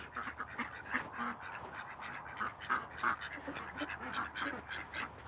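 Farm ducks near their pond honk and quack in a continuous, overlapping chorus at moderate distance, with many birds calling at once.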